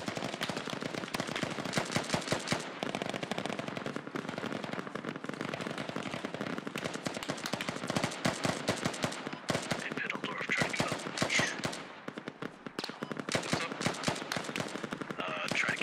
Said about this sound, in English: That is a wall of lead coming down. The entire platoon firing down on these guys.